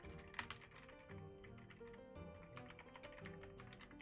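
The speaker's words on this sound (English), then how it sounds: "like the typing sound. I didn't type shit. I just clickered and cluckered." Typing on a computer keyboard: a quick, irregular stream of light clicks and clacks, close but quiet, over soft background music, with a short pause partway through before the tapping resumes.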